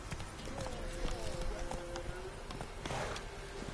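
A horse in The Witcher 3 gallops with a steady clip-clop of hooves at moderate volume, blended with game ambience and a faint tonal sound.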